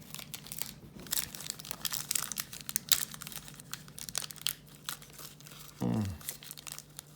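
Plastic wrapping on 1990 Score baseball trading card packs crinkles and crackles in quick, uneven bursts at close range, with one brief tearing scrunch near the end.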